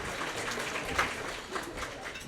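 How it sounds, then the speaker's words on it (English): Audience applause fills a room at the 2019 Half Moon Bay Coastside Chamber of Commerce awards ceremony, a steady, moderately loud patter of many hands clapping that holds evenly for a couple of seconds. "Let's have another round of applause for our Rockstar CEO."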